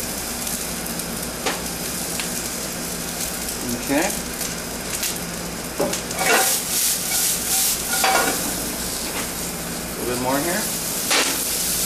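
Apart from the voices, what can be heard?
garlic and pork shank sautéing in a pan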